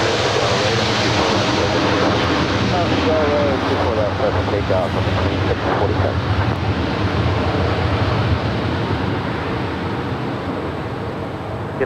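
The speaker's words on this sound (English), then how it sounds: "This next arrival is United 350 coming in from Las Vegas. It's a 23-year-old 737-800." Jet engine roar from a 23-year-old United Boeing 737-800 arriving at Los Angeles LAX from Las Vegas, a loud, steady broadband rush lasting throughout with wind buffeting the microphone.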